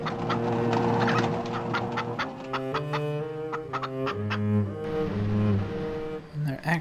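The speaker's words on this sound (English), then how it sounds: "Am I being a pain to these chickens?" Chickens cluck and squawk steadily in a farm livestock area of the video game Rule of Rose, with overlapping calls over a continuous game soundscape.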